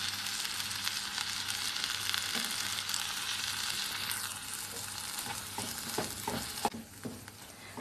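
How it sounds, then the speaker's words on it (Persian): Barberries sautéing in butter over low heat, a soft steady close sizzle with occasional stirring clicks and scrapes toward the end, no voices. "3-4 دقیقه رو حرارت ملایم زرشکمون رو تفت میدیم"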